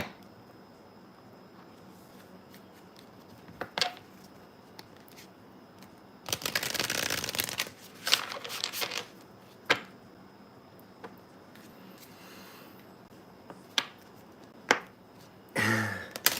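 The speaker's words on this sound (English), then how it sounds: "I just shuffled up my Oracle cards. Now I've got to shuffle up my 2 decks of tarot cards." Oracle and tarot cards are shuffled in scattered bursts: a longer riffling flutter followed by sharp isolated snaps and taps, close and quiet against a hushed background.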